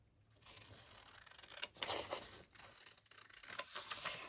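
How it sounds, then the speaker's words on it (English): Scissors snipping through recycled junk mail paper, close and fairly quiet, with a few crisp cuts and rustling paper handling and no talking. "Grab my scissors."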